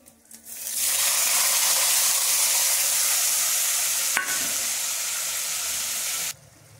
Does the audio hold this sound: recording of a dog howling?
no